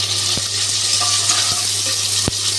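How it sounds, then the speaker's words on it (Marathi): Onion sautéing in a pan for dal khichdi, a steady close sizzle of oil with soft stirring and a few sharp clicks of a utensil against the pan. "मस्त कांदा परतून घ्यायचंय।"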